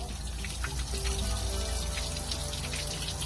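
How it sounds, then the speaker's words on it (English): Water back-flushes through the leg of a Volvo Penta inboard marine engine after running aground, a steady, close rush and splash of flowing water with no pause. "You simply back flush it through here, and you should see it obviously come out the leg"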